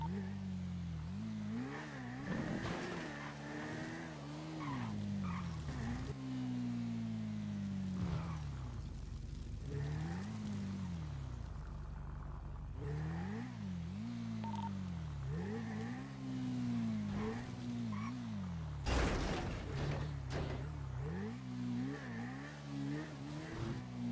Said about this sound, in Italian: Io ti sento con la moto.